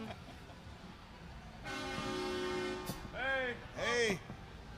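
A train horn sounds a long, steady blast outside a live music bar, followed by shorter wavering tones and a voice, all over low room noise.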